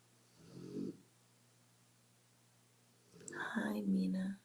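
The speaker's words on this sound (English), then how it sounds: "that is my dog in the background who is snoring like a whole human." A dog snoring in the background indoors, with two separate low rumbling snores a few seconds apart that sound almost human, the second one louder and longer.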